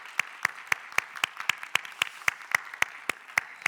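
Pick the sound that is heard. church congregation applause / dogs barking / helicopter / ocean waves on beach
church congregation applause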